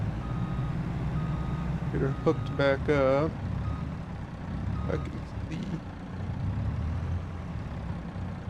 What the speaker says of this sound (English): Back the truck back up here.